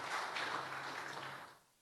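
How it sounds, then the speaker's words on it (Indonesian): Church congregation applauding during a sermon at a GPDI Bethesda service, a dense steady wash of clapping that fades out near the end. "Kasih tepuk tangan yang meriah buat Tuhan"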